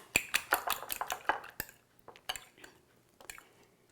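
A utensil mixes parsley into fried potatoes with eggs, sausage, peppers and onions, giving a quick series of close metallic clinks and scrapes against a dish that thin out to sparse taps.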